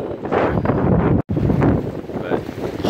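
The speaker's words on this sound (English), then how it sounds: "I don't know how long I'm gonna stay out here because it is windy" Heavy cold wind buffeting the microphone in loud, gusty rumbles, with one sudden brief cut in the middle.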